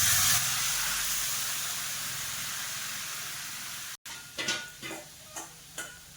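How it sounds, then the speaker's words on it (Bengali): Goat meat with dried red chilies sizzling in hot oil in a wok, a steady broadband fry hiss that cuts out briefly and returns with sharp spattering pops and stirring scrapes at close range. "তো রান্না হয়ে যাচ্ছে মাংস, পাঁঠার মাংস।"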